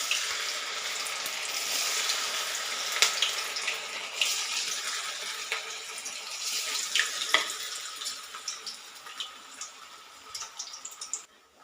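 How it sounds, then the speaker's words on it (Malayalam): Rava (semolina) vadas sizzle steadily in hot oil, a dense continuous hiss with small pops and crackles throughout, close and alone. "എണ്ണയും ചൂടായിട്ടുണ്ട്. നമുക്ക് ഓരോന്നായിട്ട് ഇട്ട് കൊടുക്കാം."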